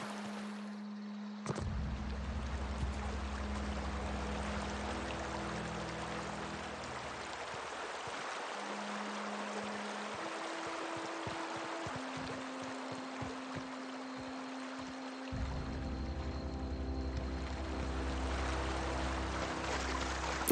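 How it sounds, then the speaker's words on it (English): Steady broadband rush of flowing river water in the video game The Outer Worlds, continuous and fairly close, with a low musical drone running underneath throughout. "you can hear the water fade in and out"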